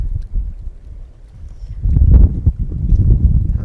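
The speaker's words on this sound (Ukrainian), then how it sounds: "Тут вітряно дуже." Strong wind on the Greek island of Corfu buffets the microphone with a low, roaring rumble that swells louder midway and keeps gusting to the end.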